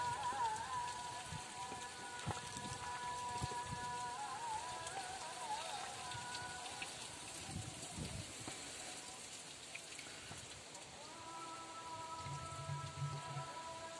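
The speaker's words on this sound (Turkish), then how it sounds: "Eğer bu genleşme kabının hortumunu açarsanız daha hızlı akacaktır." Antifreeze coolant drains from a Fiat Linea onto the ground, a steady soft patter and splash like light rain running throughout, with faint tonal hum in the background.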